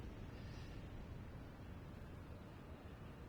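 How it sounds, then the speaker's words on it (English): Oil tanker blowing up after a torpedo hit in the submarine game Silent Hunter 5, a deep sustained rumbling roar of explosions, dense and low-heavy, rolling continuously without distinct separate blasts. "I can hear explosions. That's probably the oil tanker blowing up behind us."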